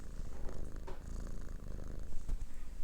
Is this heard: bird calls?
no